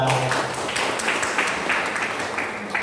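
Audience applause at a motivational seminar in Bandar Lampung, with uneven clapping that carries the whole moment at moderate loudness and no talking over it.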